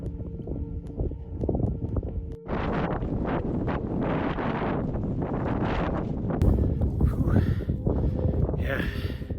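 Gusty, blustery wind roars across the open summit area of Mount Adams in New England, a steady loud rush with strong buffeting gusts against the microphone throughout.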